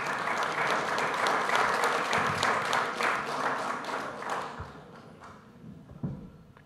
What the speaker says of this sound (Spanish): Aplausos para el señor Regoso.